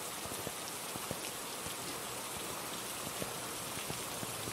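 Steady rainfall in the video game Phasmophobia, a dense hiss of drops pattering on surfaces with scattered sharper ticks, even and unbroken, no voices.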